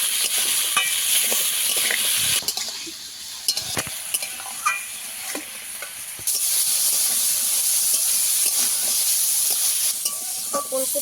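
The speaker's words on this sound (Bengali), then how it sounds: "আমি ভালোভাবে একটু ভেজে নেব লবণ দিয়ে দেব ফুলকপি" Cauliflower sizzles loudly in a pan with salt, with repeated scraping and clattering as it is stirred, the hiss swelling and dipping between stirs.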